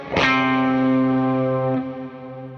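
An electric guitar played through a Meris compressor with reverb at a lower ratio rings out as a single sustained chord, picked sharply and decaying slowly with a broad ambient tail that lingers after the strings fade.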